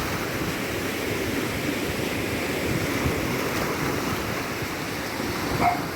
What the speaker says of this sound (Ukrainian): І все ж таки море хвилюється.